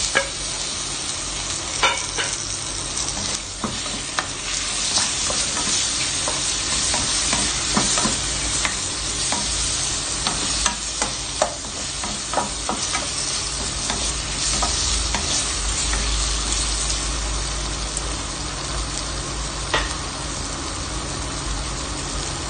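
Tomato tipped into a pan of already-cooked onion, chili and garlic, frying with a steady, dense sizzle and scattered stirring clicks throughout, loud and close with no talking.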